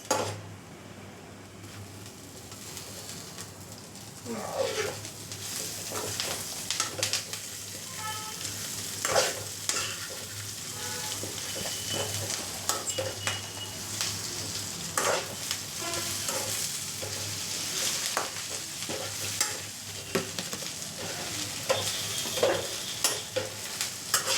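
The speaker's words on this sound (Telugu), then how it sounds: "ఇలా వేగిపోయిన తర్వాత మనం ఇప్పుడు కరివేపాకు వేసుకుందాం" Curry leaves crackle and sizzle steadily in hot oil for a curry leaf powder, with sharp popping bursts and occasional stirring scrapes over a constant frying hiss. No one speaks.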